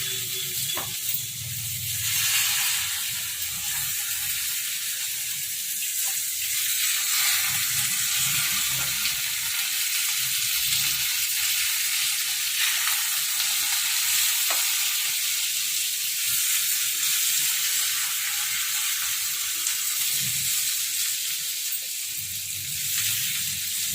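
Eggs fry with cluster beans in a pan, Telangana style, giving a constant loud sizzle with occasional stirring scrapes and soft low clatters, and no talk.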